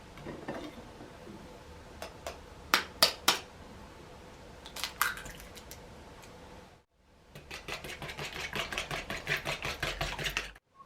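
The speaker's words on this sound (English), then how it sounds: "Beat the egg." An egg beaten in a bowl for Thai-style egg and banana roti: scattered sharp clicks and taps, then a quick steady run of rhythmic utensil strikes against the bowl, close and fairly quiet.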